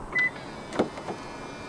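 A 2023 Toyota Vios 1.5 G locks when the ribbed area of a front door handle is pressed. A short beep sounds, then a soft clunk and a brief whir as the side mirrors fold in, all quiet and close.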